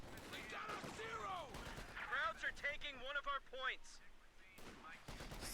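Scattered gunfire and artillery blasts in a World War II strategy video game, irregular sharp shots and booms rising and falling under continuous commentator speech.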